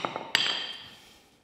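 A hammer strikes a chisel to tip up core plugs in a Rover V8 engine block: one sharp, close metallic clang rings out and fades, after a few lighter taps.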